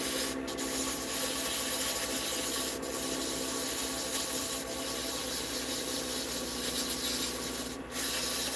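Abrasive paper rubs continuously against a spinning wood pen blank on a lathe, making a steady, close hiss that runs unbroken for several seconds with only brief dips, and no voices.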